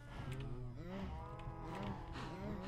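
Cattle in Minecraft moo in a steady string of drawn-out, pitch-bending calls, loud and close, with no voices over them.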